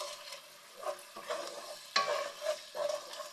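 Stir-fry sauce with dissolving Knorr chicken cubes is stirred in a pan for a few quick scraping passes, faint and close, with a soft sizzle beneath.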